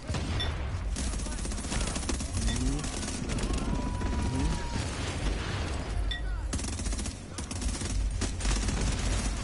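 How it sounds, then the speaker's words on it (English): Repeated shotgun blasts and rapid gunfire in a rooftop firefight in the video game Tom Clancy's The Division, loud and continuous with steady bursts under players' voices. "That shotgun's working."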